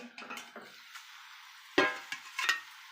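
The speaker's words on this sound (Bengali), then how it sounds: "নাড়াচাড়া করতে খুব সাবধানে করবে, বা তেল ছিটকে যেতে পারে" Food frying in oil in a pan is stirred carefully, producing faint, intermittent scrapes and light clinks over a soft sizzle, with one sharper knock midway.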